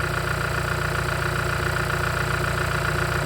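A car engine idles during a battery charging test, giving a steady, even mechanical hum with a fine rhythmic pulse, close and unbroken with no voices.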